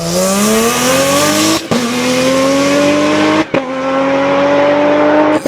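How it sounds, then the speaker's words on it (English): Lotus 3-Eleven with a V6 engine revs hard and loud, climbing through gears in three rising pulls separated by brief shift breaks. "in real life, the 311 sounds like this"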